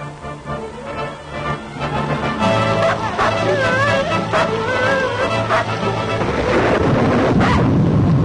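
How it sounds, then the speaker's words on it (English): Storm sounds outside a cabin door in the Yukon: loud, sustained rumbling rolls of thunder with rain-like wash building in intensity, mixed with music and a few indistinct background tones. "you don't want to go out in that old storm"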